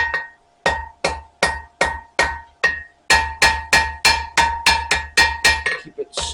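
A blacksmith hammers a Viking-style knife blade on the edge of an anvil: a long run of bright, ringing metallic strikes, slow and spaced at first, then quicker and louder, close up.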